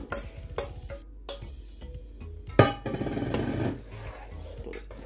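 Meat juice being stirred into Cameroonian ndolé in a pot, with intermittent spoon scrapes and knocks against the pot and a brief burst of sizzling, fairly quiet.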